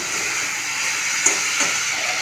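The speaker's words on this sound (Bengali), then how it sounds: "টক দই দিয়ে নাড়াচাড়া করে নিলাম।" Spice paste mixed with sour yogurt in a frying pan gives off a steady, close hiss of cooking. A couple of faint taps from stirring sound through it, with no voices.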